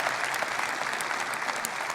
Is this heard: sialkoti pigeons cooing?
no